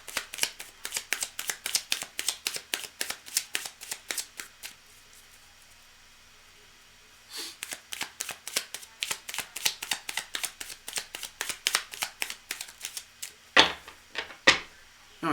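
Rapid rhythmic riffle of tarot cards being shuffled, repeated in bursts with a short pause midway, close up and crisp, no talking.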